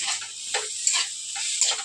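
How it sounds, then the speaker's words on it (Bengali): Dandakalas (dulfi) leaves frying in a pan and being stirred, giving a steady soft sizzle with a few scraping strokes, close and alone. "পাতাটা আমি এর মধ্যে দিয়ে ভালো করে নাড়াচাড়া করে নিচ্ছি"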